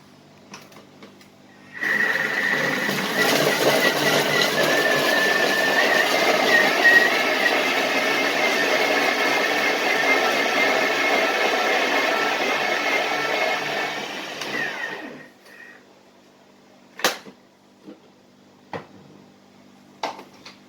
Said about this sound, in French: On va le mettre à mixer, que ça soit mixé très finement.